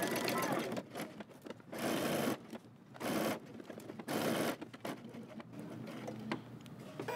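A home sewing machine back stitches the seam of a Simplicity 8615 jumpsuit at a 5/8-inch allowance, several short bursts of whirring stitching alternating with pauses, with talk in the gaps.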